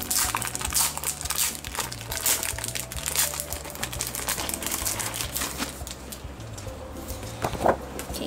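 Crinkly plastic packaging is unwrapped from an official BT21 Line Friends folder, a steady run of close, dense rustling and crumpling with faint background hum and occasional taps.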